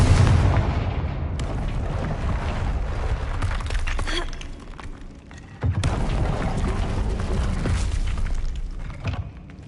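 Booming magical blasts from the Confringo spell in a Harry Potter video game, a few heavy explosive hits with rumbling tails spread across a busy, continuous bed of game sound.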